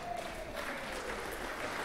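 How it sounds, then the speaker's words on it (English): An audience at a Halloween show in a senior living community applauds after a dance act, a soft, steady spread of clapping heard from some distance. "Give them a round of applause."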